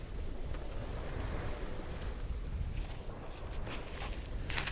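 Wind and waves at sea aboard a solo sailboat heading south from Portugal toward Tenerife, with a strong breeze filling the sails: a faint, steady wash of wind and surf rushes continuously, with no voices.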